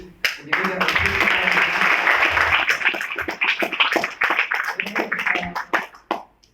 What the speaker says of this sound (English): a round of applause to Mr. Jathan Antony and Mr.